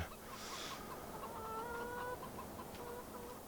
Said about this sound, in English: The cockerel says thank you also.